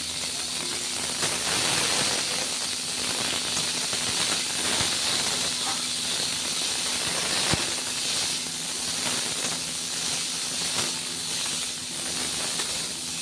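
Panch phoron spices sizzle in hot oil, a loud, steady hiss close by with scattered light crackles running throughout.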